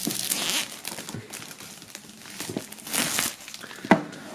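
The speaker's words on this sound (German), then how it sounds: "So, einmal die Folie entfernen." Plastic film being peeled and pulled off a dark grey and black KC Rebell & Summer Cem Maximum 3 unboxing box, with close crinkling and rustling in irregular bursts and a sharper tearing crackle near the end.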